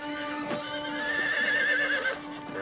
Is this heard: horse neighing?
yes